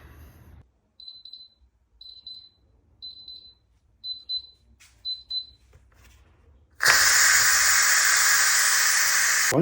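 An Instant Pot Pro pressure cooker gives five short paired electronic beeps at even intervals, then bursts into a loud, continuous rushing hiss of steam that carries on to the end.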